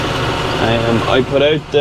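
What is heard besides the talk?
tractor engine running in a field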